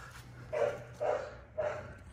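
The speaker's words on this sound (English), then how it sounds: "Sorry about the neighbor's dog going crazy." A neighbor's dog barks three times in loud, separate bursts about half a second apart, heard outdoors over a steady low hum while someone works on the body mounts of a Toyota 4Runner.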